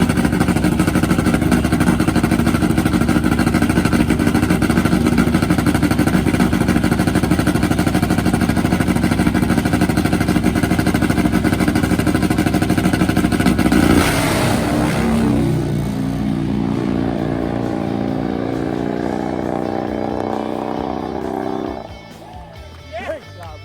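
Loud drag racing motorcycle engines roar steadily for a long stretch, then fade as a bike pulls away on a six-second pass, leaving a rumbling drone that drops off.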